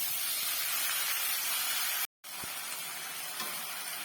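Potatoes sizzle loudly in a hot pan while being stirred, a continuous bright hiss broken by a short moment of silence before the frying resumes.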